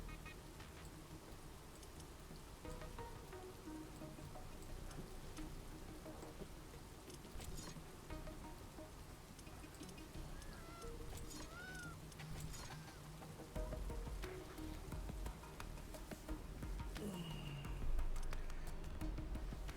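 Steady rainfall in a video game, a continuous dense patter with occasional low rumbles and faint game sounds layered over it, holding at an even level throughout with no talking.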